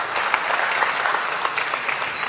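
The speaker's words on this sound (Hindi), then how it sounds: "आपने पहली बार मेरे इस गीत को सुना और समझ के सुना और तालियां बजाई, खूब तालियां बजाई।" Audience applause at a Hindi poetry gathering (kavi sammelan) in Bhopal, a steady dense wash of clapping from many hands lasting throughout, with a few sharper individual claps standing out.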